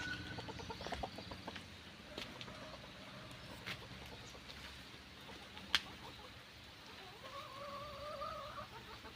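Hen clucking outdoors in a backyard before rain, with a soft repeated cluck rising near the end over a steady hum and a sharp click midway.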